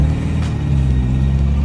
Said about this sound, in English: Just listen to this beautiful exhaust note.